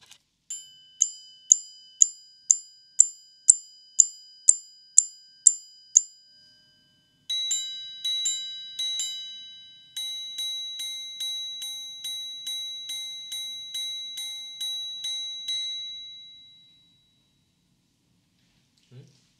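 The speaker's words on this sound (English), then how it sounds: "You have been hearing the movement chiming a certain time." A tiny Bvlgari Octo Finissimo watch movement chimes the time: a run of evenly spaced high bell strikes, then a pause, then a series of paired ringing chimes with long shimmering decays, close and clear with no talking.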